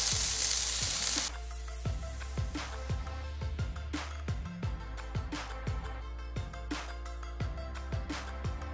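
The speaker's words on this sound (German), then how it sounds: "Wir gehen jetzt erstmal an den Grill und werden mal gucken, dass wir den Bacon vorbraten." Bacon sizzling on a hot grill, a steady hiss with periodic clacks and taps from tongs or a spatula, close up, no talking.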